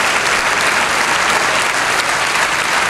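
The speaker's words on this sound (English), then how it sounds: "Students, teachers, please give them a huge round of applause." Dense, continuous audience applause fills a college graduation ceremony, a loud, even wash of many hands clapping at once with no voices standing out.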